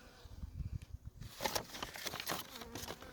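Honeybees buzz around a hive box with its queen box, a soft steady hum that swells into louder close passes near the middle, with faint handling noises beneath.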